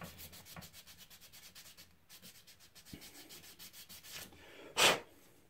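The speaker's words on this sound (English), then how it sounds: "we'll get this all smoothed off. And that all sanded up so we've got nice smooth surfaces" Sanding a plastic model kit part smooth for an F-350 build: rapid rhythmic scratchy strokes up close, repeating steadily, ending with a short loud blow or puff of breath.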